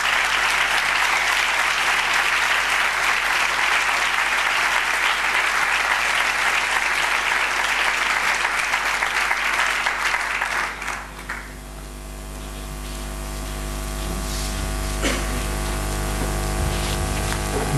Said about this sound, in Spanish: Un fort aplaudiment pel Joan Carles